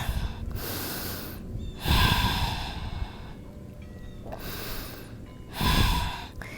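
Deep breaths during a yoga pose outdoors at Fort Wetherill, with three strong inhale-exhale bursts spaced a few seconds apart and quieter airy breathing between them.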